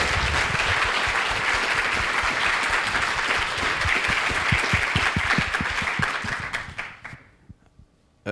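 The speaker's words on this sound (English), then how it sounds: "we should give the family a huge round of applause" Dense, sustained applause from a theater audience after a film screening Q&A, loud and steady for about seven seconds before dying away abruptly, with one faint late clap.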